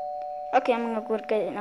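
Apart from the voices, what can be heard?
doorbell ringing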